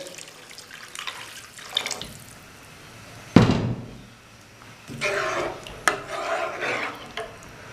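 Water pours into a cooking pot of beef in a short splashing burst, followed by clinks and stirring sounds from nearby cookware.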